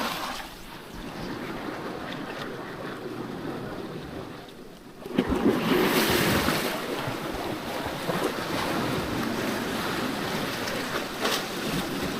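Sea waves wash continuously onto a beach with crystal-clear water, the surf swelling louder midway and steady broadband roar mixed with wind buffeting the microphone; no one speaks.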